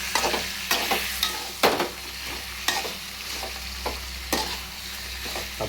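Meat curry frying in a pan with turmeric, a steady close sizzle with repeated scraping stirring strokes at an uneven rhythm, over a low background hum.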